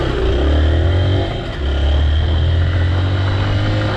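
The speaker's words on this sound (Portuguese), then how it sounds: "Tá ouvindo o motor da moto?" A Honda Bros motorcycle engine drones loud and close while riding on country roads in rural São Paulo, a steady low rumble with a brief dip in revs partway through.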